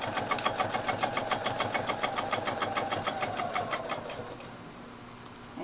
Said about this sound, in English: I'm going to move down to the next reference line and just sew right back over that.